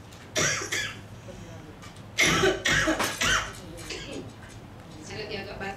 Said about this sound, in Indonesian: Saya lagi agak batuk ini. Sorry ya kalau ada batuknya sedikit.